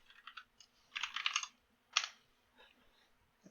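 Commands are typed on a computer keyboard in short, quiet bursts of close key clicks, with brief pauses between clusters and a firmer keystroke near the middle.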